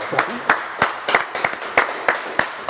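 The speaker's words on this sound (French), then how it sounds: "Bon, applaudissements là." Steady rhythmic claps from a French TV studio audience, sharp and evenly spaced at about three per second, with no talk over them.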